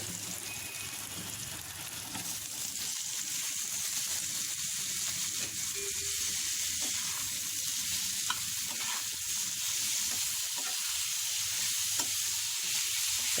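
Sliced tomatoes frying in a pan with salt, a steady broadband sizzle running throughout, with occasional stirring scrapes and no talk.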